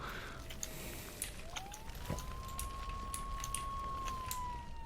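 A single wailing emergency siren from an ambulance in the emergency-services game Flashing Lights rises and holds a steady tone at moderate distance, over a faint background hiss with scattered clicks.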